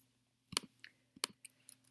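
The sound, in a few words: typing on a calculator's keys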